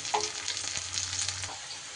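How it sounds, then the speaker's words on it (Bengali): Steady crackling sizzle of bitter gourd frying in oil in a pan, close and continuous, with a few faint clinks and a low hum underneath, no speech. "উচ্ছেটাকে একটু বেশি ভালো করে ভেজে নিতে হবে"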